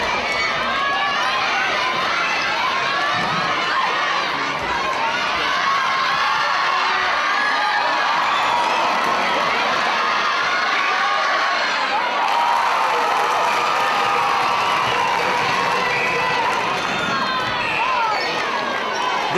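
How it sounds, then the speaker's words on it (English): A packed netball crowd at a cup grand final cheers and shouts loudly in a sustained roar, with whistles and whoops rising over the din. "The crowd, who have been incredibly vocal this entire game, have turned the dial up to 11."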